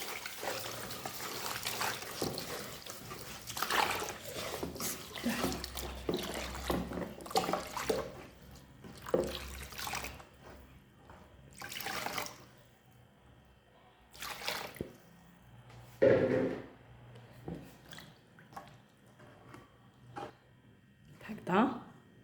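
Water is poured over one kilogram of couscous for Algerian couscous, intermittent splashing and trickling heard under frequent talk in a home kitchen.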